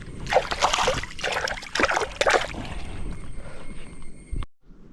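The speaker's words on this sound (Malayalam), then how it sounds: "വെള്ളം വന്ന് മറിയുന്നതാണ്." Water in a flowing stream beside a fishing pen churns and splashes with a strong undercurrent, a loud, continuous rushing that ends abruptly.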